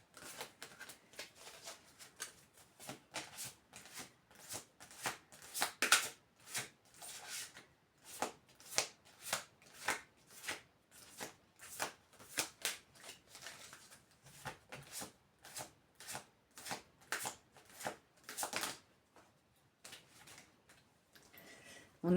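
Tarot cards being shuffled by hand for a reading, a long run of quick riffling bursts in steady rhythm, close and moderately loud, with no talking.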